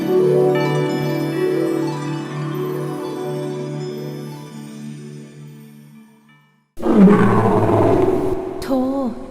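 A deep, drawn-out roar of a Himmapan mythical lion (tin ratchasi) in a 3D animation rumbles for several seconds and fades, then a second, louder roar bursts in close and rough.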